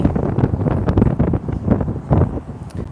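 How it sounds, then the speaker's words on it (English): Gusty wind buffets the microphone outdoors, a loud, low, uneven rumble that rises and falls without pause. "It's windy."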